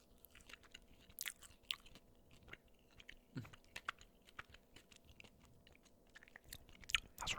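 Close, quiet chewing of honeycomb chocolate in a soft ASMR setting: a steady run of small crunches and wet mouth clicks, with sharper bites scattered throughout, intimate and near, with no talking.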